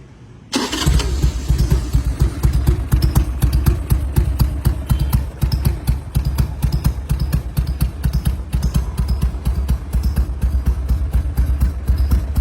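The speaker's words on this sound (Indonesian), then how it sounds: "Akan kita tampilkan video ngeblar dari Virot kayak gimana nih." A Harley-Davidson V-Rod motorcycle engine starts up, then idles with a loud, steady low rumble. Rhythmic revving pulses run throughout, close to the listener, and no voices can be heard.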